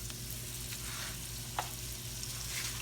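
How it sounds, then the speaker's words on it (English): Onions hiss and sizzle in hot frying oil while cooking smothered pork chops, a quiet steady crackle with occasional sharp pops and stirring clicks, no talking. "I'm going to put the onions right into the oil here."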